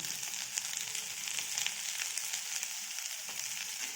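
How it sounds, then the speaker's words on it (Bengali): Potatoes fry in a pan, browning to a reddish colour, with a steady, close hiss of sizzling oil that runs evenly throughout and has no talk over it. "আলুগুলো লাল লাল করে ভাজা হয়ে এসেছে।"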